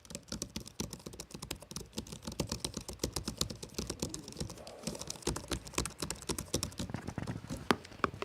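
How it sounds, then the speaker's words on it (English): Close, steady typing on the keys of a 2024 Zephyrus G14 laptop keyboard, with rapid light clicks that cluster into bursts and continue for several seconds without any voice. "Not feeling any loose keys, and this is what they sound like."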